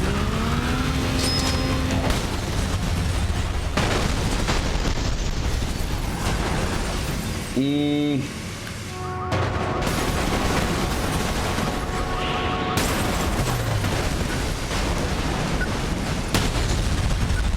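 Video game car crash and explosion, a dense burst of loud crunching impacts, bangs and mechanical clatter that keeps up throughout, with a short warbling tonal sweep midway.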